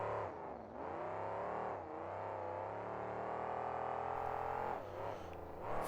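A monster truck at a 2005 KORR Monsters event in Pontiac, Michigan, its engine revving hard and holding a loud sustained roar with a brief dip and surge as it launches off a ramp.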